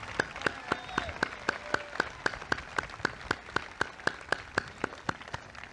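Sparse, evenly spaced claps at a 1996 high school graduation ceremony, one sharp hand clap after another in a steady rhythm over a quiet room.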